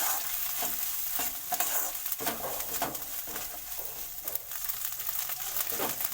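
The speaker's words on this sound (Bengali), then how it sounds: "এটা কাঁচা জিরে, এটা পাঁচফোড়ন, এগুলো দিয়ে হালকা নেড়ে দেবো" Whole cumin seeds and panch phoron sizzling in hot oil while being stirred, a continuous crackling fry with scraping strokes of the spoon against the pan, close and fairly loud.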